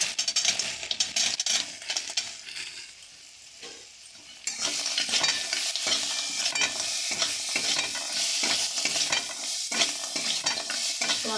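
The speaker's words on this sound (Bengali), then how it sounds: "সয়াবিনটা ভাজা ভাজা হয়ে যাক" Soybean chunks frying in a pan, a loud continuous close sizzle that swells after a brief quieter stretch, with irregular stirring scrapes and clinks throughout.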